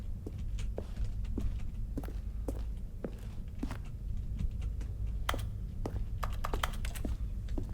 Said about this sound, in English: I like how the E key just makes the sound of typing.